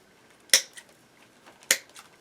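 Scissors snip through eyelash mesh while trimming a star spangled carnation, two sharp close cuts about a second apart with faint handling noise between.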